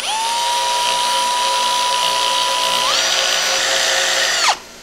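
A power drill grinding down a metal rod whines steadily at high speed, its pitch stepping up once partway through before the motor abruptly winds down and stops.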